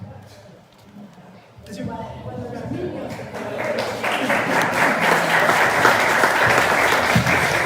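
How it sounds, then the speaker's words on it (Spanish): An audience applauds at an academic lecture event in Río Cuarto, starting from a quiet room with low voices and swelling into dense, sustained clapping that stays loud and steady to the end. "Entonces, ese aplauso es para el gran Lenin."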